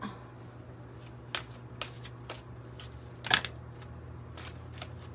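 Tarot cards are handled and shuffled close by, giving intermittent soft snaps and riffles with one sharper crisp flick in the middle, over a low steady room hum.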